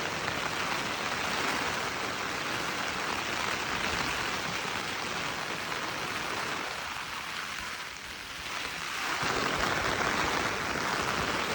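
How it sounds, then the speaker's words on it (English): Heavy driving rain lashes a tent at night during a wild camp, a dense, steady hiss that briefly dips before returning at full strength. "it is absolutely pouring it down"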